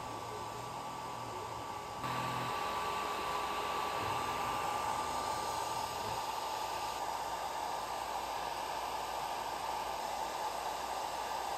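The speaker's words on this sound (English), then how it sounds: "which is a small air pump, and it does two things. It clears the smoke from the path of the laser" Small air-assist pump on an Atomstack X20 Pro laser engraver, a steady close hiss and whine that continues unbroken throughout with a slight step up in level early on, and no voices.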